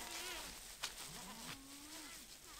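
Baby goats bleating on a farm, several wavering cries close by, one long drawn-out bleat in the middle, with insects buzzing faintly in the background.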